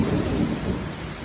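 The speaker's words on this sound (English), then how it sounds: "Rain coming down like an open faucet, palm trees bending till they nearly break" Heavy storm with torrential rain and strong wind bending palm trees, a dense steady roar of downpour and gusts filling the whole stretch, loud and continuous with no voices.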